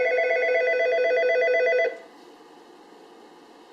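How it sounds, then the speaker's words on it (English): An Algo 8180 SIP audio alerter rings with a loud electronic ringtone, a steady warbling tone of close pulses for about two seconds before it cuts off, leaving a low hum. "when you dial 1081, both the telephone and the 8180 will ring simultaneously"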